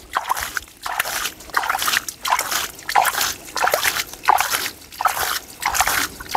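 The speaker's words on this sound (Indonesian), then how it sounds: "kita siram-siram" Garden plants being watered by hand in a vegetable plot, with water splashing and sloshing onto soil and leaves in steady repeated pours, close and fairly loud, with no talking.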